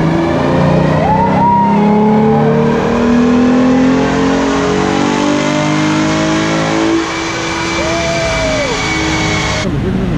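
A car engine revs hard on a dyno at a loud dyno day, the sustained roar rising and falling through several pulls over about ten seconds, close and dominant.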